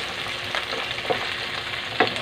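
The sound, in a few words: tomatoes added to pork, garlic and onion sizzling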